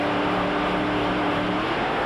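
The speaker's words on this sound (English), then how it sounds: "Revs building top alcohol dragsters." Top alcohol dragsters rev before a drag race at Willowbank Raceway in Australia, a loud sustained engine roar filling the whole clip with a steady, slightly pulsing drone.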